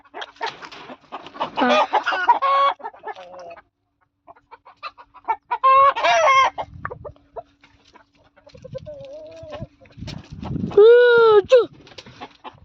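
Hens cluck and squawk in scattered bursts separated by quiet gaps, fairly close by, with a longer rising squawk near the end.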